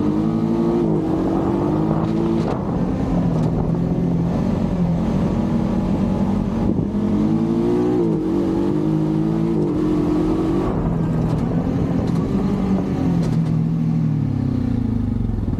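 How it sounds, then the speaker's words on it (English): A Honda Pioneer 500 utility vehicle engine revs up and down as paddle-shifted gears change while riding, a loud continuous rising and falling drone close by. "It just revs right up."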